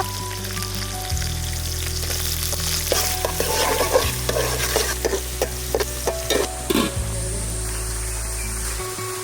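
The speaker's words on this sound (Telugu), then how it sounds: "ఆయిల్ వేడైన తర్వాత 2 బగారాకులు, దాల్చిన చెక్క, ఉల్లిపాయలు, ఉల్లిగడ్డ," Onions, bay leaves and cinnamon crackle in hot oil for chicken curry, a loud continuous sizzle with repeated scraping stirs and clinks of a spatula against the pan; nobody speaks.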